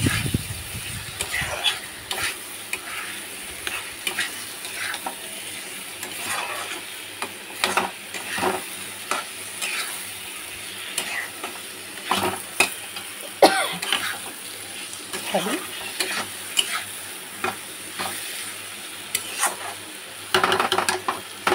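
Potatoes and fish fry in a pan for a Bengali fish curry with hilsa, a steady sizzle under repeated scraping and clattering stir strokes, with occasional coughs and throat clearing nearby; no one speaks.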